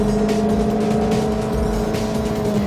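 Chevrolet Sonic engine revving hard to 6,500 rpm on a test drive, a loud, close, sustained engine whine with steady tonal drone and road rumble, no talking.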